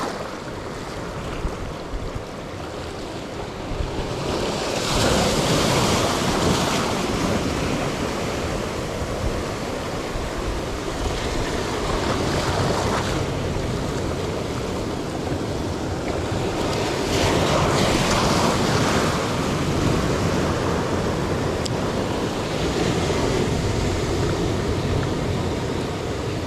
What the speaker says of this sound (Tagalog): Mas malaki pala yung alon dito.